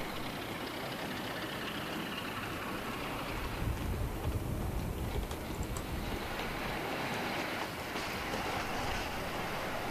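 A Crompton diesel locomotive hauls tank wagons with barrier wagons front and back at up to 35 mph, giving a continuous broad rumble with rushing, rain-like wheel and rail noise that swells slightly midway and carries on without talk.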